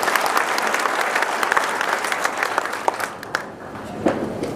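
Audience applause at a Marathi political gathering, steady dense clapping from a crowd that holds fairly even and then thins slightly near the end.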